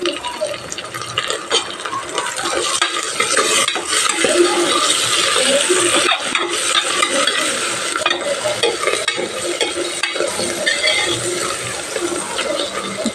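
Chicken with coriander and mint sizzles in a hot pan while a utensil stirs and scrapes, a steady crackling hiss with occasional clinks, close and fairly loud.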